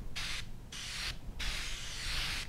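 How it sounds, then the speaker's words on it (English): A can of Sprayway glass cleaning foam sprays onto a cleaning pad in three hissing bursts, the last one longest, close up over a low background hum, with no talk. "We're going to use some Sprayway glass cleaning foam here."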